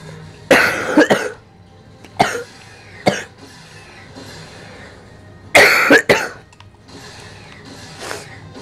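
Several harsh coughs in two clusters, a double burst near the start and another later, with a few single coughs between against a quiet room.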